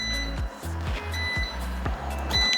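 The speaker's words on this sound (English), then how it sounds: "All right, beeping, beeping," A home brewing system controller chirps repeatedly during the mash of a NE IPA, a series of short electronic beeps at a regular rhythm over a low background hum.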